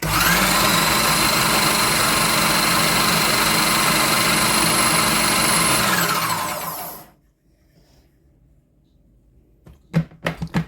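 A food processor whirs loudly and steadily as it blends wild garlic almond pesto, then spins down and stops, followed by a few sharp clicks and knocks of the lid and bowl.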